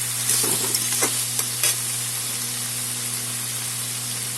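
Boiled mung dal going into a hot pan of sautéed fish-head masala, with a burst of loud sizzling and spattering near the start that settles into a steady, close frying hiss.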